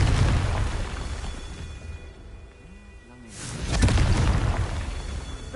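Confringo spell explosions in the video game Hogwarts Legacy, a loud rumbling blast that fades, then another booming burst swelling up after a brief quieter moment.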